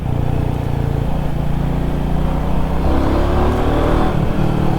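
Yamaha MT-15 V2 motorcycle engine running and revving, a loud, steady exhaust drone with rising and falling throttle over constant close engine noise.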